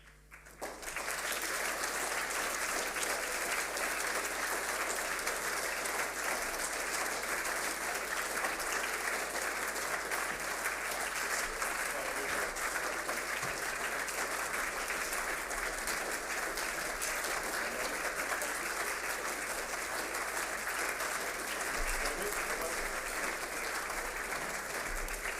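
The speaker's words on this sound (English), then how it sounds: "if we can maybe stop the clapping game" Sustained applause from an audience at a school fifth-form prize giving, a dense, even wash of clapping that carries on steadily for over twenty seconds without pause.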